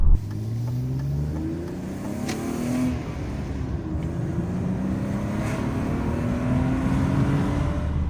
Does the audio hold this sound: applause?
no